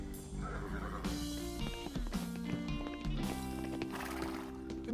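A paint horse whinnies in an animated cartoon, a bright, wavering neigh over a steady bed of background music, with hoof clip-clops mixed in and no talking.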